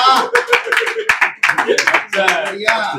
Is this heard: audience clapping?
yes